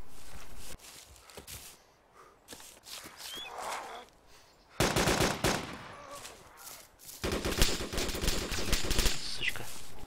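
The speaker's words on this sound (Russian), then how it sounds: "Пулемет у него." In the video game DayZ, machine gun fire comes as two sustained bursts of rapid shots, separated by quieter stretches with scattered sounds.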